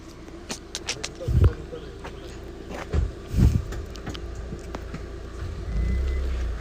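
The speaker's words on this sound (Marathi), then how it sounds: "आता विचार करतोय गाडी कुठे लावायची" A car reversing into a parking spot near a beach and temple on a Ratnagiri trip, with intermittent sharp beeps, a couple of louder thumps and a low engine rumble swelling toward the end, heard outdoors without talk.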